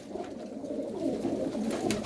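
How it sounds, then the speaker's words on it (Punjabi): A pigeon of the kalā chīnā breed coos softly nearby, a brief low burbling call in a quiet setting. "ਬਹੁਤ ਹੀ ਸ਼ਾਨਦਾਰ ਕਬੂਤਰ"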